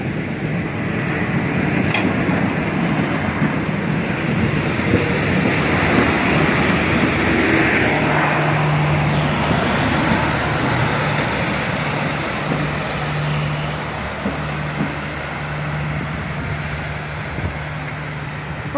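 Heritage train hauled by locomotives A66 and S313, with Queen's and Spirit of Progress carriages, passes through Newport Station: a steady, loud rumble of rolling carriages for the whole stretch, with a brief squeal of wheels partway through.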